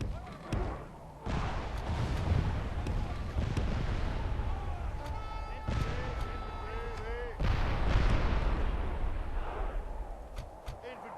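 Gunfire and artillery booms in a Medieval 2 Call of Warhammer Empire battle, repeated heavy bursts over a constant roar of fighting, with game sound effects mixed in and a person talking throughout.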